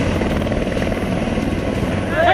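A helicopter drones with a loud, continuous rotor rumble and thrum at a political rally site near Bhindar, with a person talking over it throughout.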